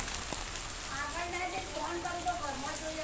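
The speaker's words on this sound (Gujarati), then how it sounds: "વરસાદ ચાલુ છે ભાઈ જોઈ શકો છો" Heavy rain falls steadily as a dense, even hiss of drops striking surfaces, with a voice faintly present in the background.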